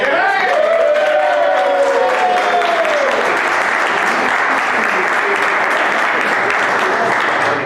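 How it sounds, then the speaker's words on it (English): Steady applause from an audience at a live auction at a coin show, sustained and fairly loud, with a voice speaking over the first few seconds before the clapping continues alone. "I think Joan deserves a round of applause."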